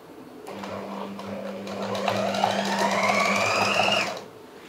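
Sewing machine stitching lace onto a tulip salwar, a steady mechanical whir that runs for a few seconds with a low constant hum beneath a rising motor tone, close and moderately loud with no talk.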